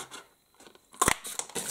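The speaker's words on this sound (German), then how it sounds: "nehme ich mir das Papier, das ich euch vorher schon gezeigt habe, das so geprägt ist, und nochmal die kleine Stanze und stanze mir da einmal" A small handheld paper punch stamps a tag out of embossed paper, giving a sharp crunching click followed by lighter snapping and rustling, close and alone.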